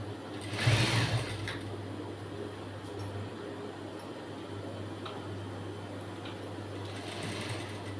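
Sewing machine stitching a blouse: a loud burst of rapid stitching near the start, then a low steady motor hum under faint handling noises, with another short run of stitching near the end.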